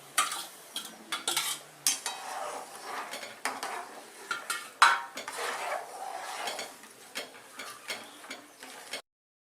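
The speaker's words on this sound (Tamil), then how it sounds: "இப்போ இந்த ரவையாக வறுத்து வச்சிருக்கிற அரிசியும் துவரம்பருப்பையும் இதில் கொட்டி நல்லா கலரணும்" A spoon stirs roasted rice rava and toor dal in a metal pot, making repeated scraping and clinking strokes in an uneven rhythm, close and moderately loud with no voices.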